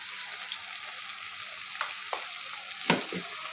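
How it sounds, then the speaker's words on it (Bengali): Ground turmeric, chili, salt, coriander and cumin fry and are stirred in a pan for a pangas fish bhuna, making a continuous soft sizzle broken by a few sharp scrapes and knocks toward the end. "সব কিছু দিয়ে আমি ভালোভাবে মশলাটা একটু কষিয়ে নেব"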